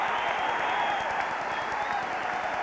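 Roaring stadium crowd at a Saints versus Cincinnati football game, a steady loud wash of cheering and noise sustained throughout with no break.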